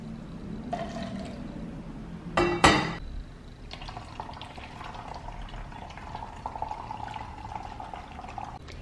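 Hot water poured through a funnel into a spray bottle, a close steady trickle that runs for several seconds after a couple of brief handling clatters near the start.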